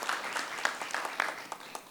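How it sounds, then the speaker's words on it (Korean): A short burst of audience applause at a Korean panel discussion forum greets an arriving panelist, with steady, fairly close clapping throughout and no voices. "네, 박수로 맞이해 주시고요."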